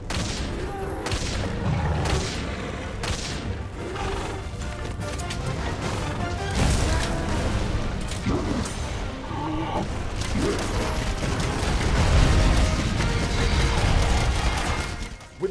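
A hunter in the Monster Hunter World video game fires at a monster during a fight with Anjanath, producing repeated booming shots and crashing impacts over a dense, busy battle soundscape.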